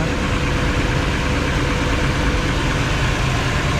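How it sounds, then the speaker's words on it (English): A 1959 Chevrolet Bel Air engine idling high on the fast idle cam, a steady, close, loud rumble with an even texture and no talk. "Running on the fast idle cam right now."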